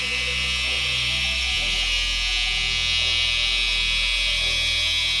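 A hair trimmer runs steadily and loudly up close, a constant electric buzz with a slight drop in pitch about a second and a half in, held for several seconds with no talking.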